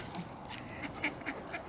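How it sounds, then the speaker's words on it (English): Mallard ducks on the Concord River, a flock of adults with ducklings, giving soft, scattered quacks at a moderate distance over steady outdoor background noise, with no talking. "being in a flock of ducks."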